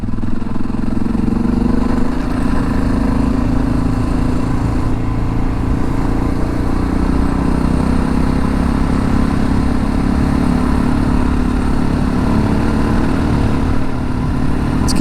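A Harley-Davidson Sportster motorcycle ridden on leaf-covered gravel roads, its engine a steady, close low rumble droning without pause, with wind noise over it.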